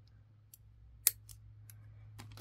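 Scissors snip through beading thread, a single sharp cut standing out among faint small clicks in a quiet room, with no talk.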